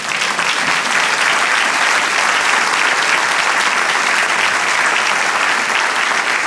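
A church congregation applauding during a Spanish-language sermon, a loud, steady wash of many hands clapping at once that holds evenly throughout.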